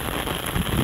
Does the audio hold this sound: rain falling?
yes